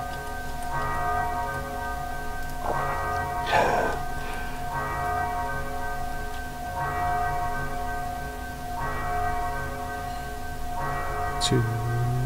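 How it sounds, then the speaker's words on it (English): Church-style bells toll repeatedly inside the stealth video game Thief II near a metal building, a steady series of resonant strikes about every two seconds with long ringing tones, fairly loud, with a brief higher chirp near the end. "Can you hear it over the frickin' bells tolling?"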